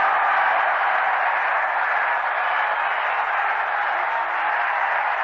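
A 1962 baseball crowd at the Polo Grounds keeps up a steady, muffled wash of applause, evenly sustained and heard alone through thin, band-limited broadcast sound.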